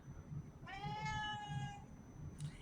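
A house cat gives one drawn-out, whiny meow, fairly faint over a low background rumble, with no talk.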